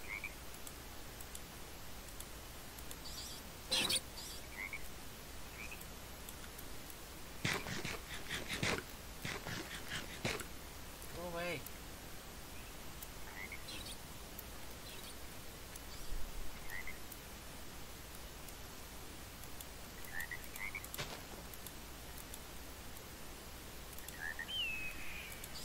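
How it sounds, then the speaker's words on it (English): Frogs croak in the Minecraft video game, scattered calls over a steady ambient hiss with occasional sharper clicks and chirps throughout. "The frogs."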